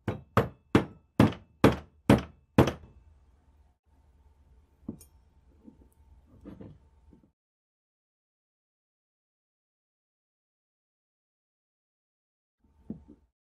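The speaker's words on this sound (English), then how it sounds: "I'll use a nut as a spacer and a hammer." Seven sharp hammer taps in quick, even succession strike a nut used as a spacer on the recessed floor plate release plunger of a Mauser 98 carbine rifle, followed by fainter handling knocks and one last isolated tap after a long silence.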